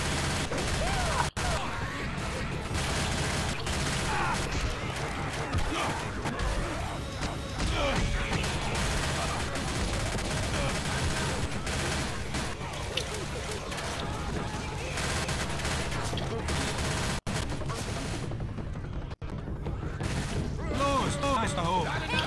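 Dense, continuous gunfire and crashing action from the video game Left 4 Dead 2, with rapid bursts and impacts filling the whole stretch loudly as players talk over it.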